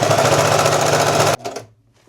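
A sewing machine stitches stretched patchwork fabric pieces for a hoodie, running in one loud, fast, even burst for over a second before stopping abruptly into near silence.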